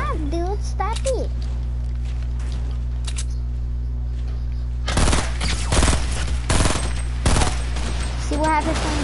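Bursts of rapid gunfire from Fortnite, sparse and faint at first, then a loud dense barrage of shots in the second half, with someone talking over the shooting.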